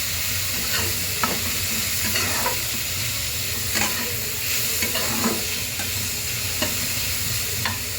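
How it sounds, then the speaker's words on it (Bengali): Chopped tomatoes fry for masala Maggi in a steady, loud sizzle close by, with occasional scrapes and taps of a spoon stirring the pan. "এখন আমি এটা ভাজতে থাকবো, যাতে টমেটোটাও গলে যাবে।"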